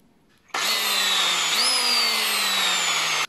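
A power drill bores 6mm holes in the plastic base plate of a SHAD SH59X top case. Its motor starts after a moment of quiet and runs as a loud, steady high whine, its pitch rising briefly before holding until it stops.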